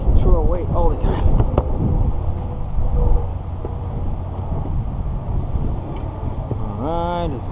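Wind blows outdoors during a windshield replacement on a 2015 Subaru Crosstrek, rumbling loud and low against the microphone throughout, with a voice talking over it at times.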